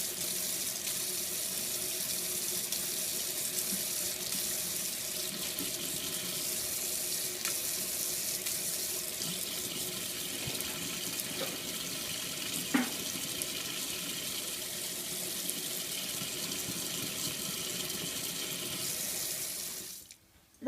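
A stream of water runs steadily from a tap, an even hiss that holds for about twenty seconds with one brief knock midway before it stops abruptly.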